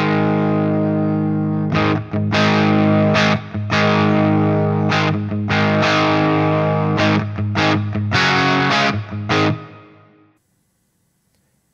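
Distorted electric guitar played through a Line 6 POD GO with its EQ block switched off, a run of loud sustained chords and choppy bursts with short gaps, ending as the last chord fades to silence.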